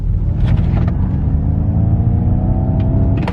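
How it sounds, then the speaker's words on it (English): A Tesla Plaid in unbridle mode accelerates with a steady, loud synthetic propulsion hum and rising tonal whine, a smooth continuous drone without any engine firing pulses. "unbridle mode, which actually gives you this crazy propulsion sound"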